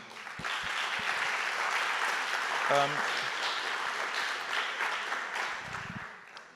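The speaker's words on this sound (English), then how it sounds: "So actually, you can give yourself an applause." An audience at a pitch contest grand final claps steadily in a dense, sustained round of applause, with a voice briefly heard over it midway.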